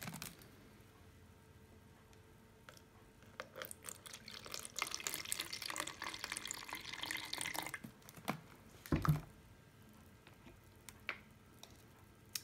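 Water is poured into a jug to dilute juice, a gentle splashing stream that rises in the middle and then stops, with a few faint drips and clinks around it.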